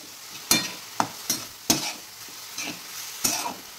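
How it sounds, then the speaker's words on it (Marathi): A spoon stirs carrots through hot ghee for carrot halwa, scraping the pan in sharp, irregular strokes about five or six times over a soft background sizzle, close and clear with no voices. "तुपात गाजर परतायचं, त्याचा स्मेल भारी येतो आणि गाजरला चव वेगळी लागते।"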